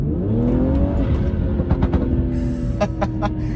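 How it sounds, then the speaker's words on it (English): A BMW 340i B58 engine fitted with a CTS Turbo aftermarket intake revs and drones loudly with a throaty rising pitch, accompanied by some clicks and rattles near the end. "it's making me want to hit the gas just every time, just to hear it"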